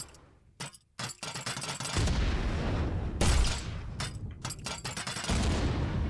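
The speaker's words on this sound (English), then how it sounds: "a little bounce sound, and an explosion that deals an impulse" Grenade in an Unreal Engine 5 game project: short sharp bangs and bursts at the start, then a loud sustained explosive roar that rises again mid-clip and stays heavy to the end, with no talking.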